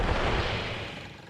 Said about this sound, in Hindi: वो देखिए, पटाखे।